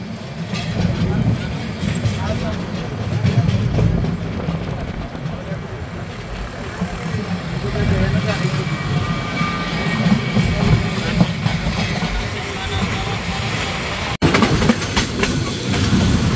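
Paharika Express train running along the hilly line from Chittagong toward Sylhet, a steady loud low rumble of wheels and carriages throughout with faint clatter, continuous and close.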